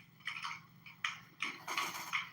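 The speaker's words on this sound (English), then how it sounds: "that's the sound of me sitting inside of my car and it just beeping for no fucking reason" Electronic chime from a keyless car sitting with its door open: a series of faint, short beeps repeating in quick irregular bursts, with no talking.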